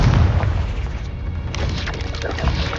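A Confringo blasting spell explodes in the Hogwarts Legacy video game, a loud, dense booming burst sustained across the whole moment with rumbling low end and crackling debris.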